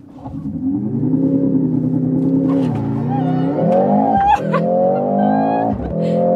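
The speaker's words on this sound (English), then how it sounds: "Launch control, acceleration, let's go." A Mercedes-AMG GLC 63 S with a 2.0-litre turbocharged four-cylinder hybrid engine launches hard under launch control. The engine note climbs through rising revs with quick gear changes, loud and heard from inside the cabin.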